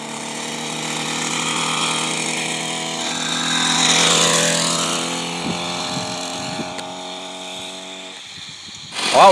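An 80cc two-stroke engine on a motorized bicycle runs close and loud, its buzzing drone swelling as it revs, then easing before a sharp rev at the end.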